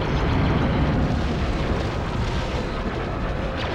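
Explosions in the video game Star Wars: Battlefront II (2005) form a loud, sustained, rumbling blast roar with no break across the stretch.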